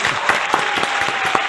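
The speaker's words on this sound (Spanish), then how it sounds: "Buen aplauso" A studio audience claps steadily at the close of a Spanish-language radio talk show, dense and fairly loud applause with no voices over it.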